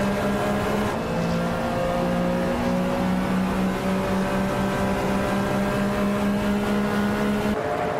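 Race cars roar off the start at Anneau du Rentende in a racing game, with a 1999 Lamborghini Diablo GT R among them. A loud, steady, droning engine note holds throughout with shifting pitch and no voices.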